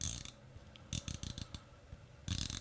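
An Omega Seamaster Planet Ocean 42mm with a ceramic bezel insert is turned in quick bursts, giving faint, crisp ratcheting clicks in short runs separated by quiet pauses.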